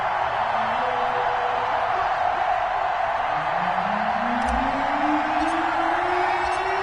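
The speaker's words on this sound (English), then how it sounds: "This crowd is ready as their guys get set to match up between the Tennessee Titans and the Indianapolis Colts." Stadium crowd in an EA Sports NFL video game before a Tennessee Titans versus Indianapolis Colts matchup, a steady broad roar with rising whoops and cheers swelling throughout, under a commentator's voice.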